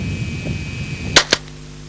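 A 1977 experimental prototype low-recoil submachine gun fires steel-jacketed ammunition, giving two sharp, loud shots about a fifth of a second apart over a low background hum.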